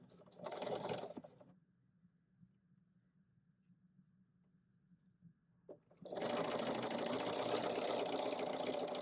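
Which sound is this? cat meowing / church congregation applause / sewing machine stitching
sewing machine stitching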